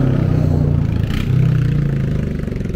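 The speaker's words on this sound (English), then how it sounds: "Excuse the noise, quad bike coming through." Quad bike passing close by a lake near a dam in Wales, a steady mid-pitched engine drone that swells slightly as it goes past, loud and continuous with no talk.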